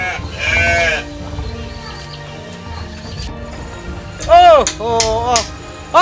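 Sheep bleat loudly and close by, several wavering calls from livestock in a rural Sundanese setting, with people talking in between.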